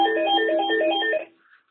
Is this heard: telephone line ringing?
yes